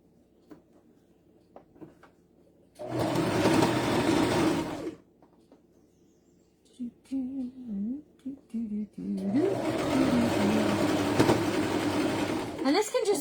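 A sewing machine runs in two sustained bursts while gathering a yellow fabric ruffle. A voice talks in the quieter gap between the runs.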